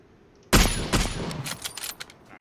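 A sudden loud burst of gunshots in a shooter video game, followed by a quick trailing volley of shots that fades out over about two seconds, with no talk.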